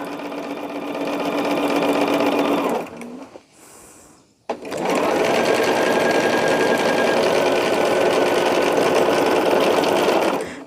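Sewing machine joining quilt rows at high speed, a loud, close, continuous whirring hum that pauses briefly midway, then resumes and runs steadily to the end, no voices.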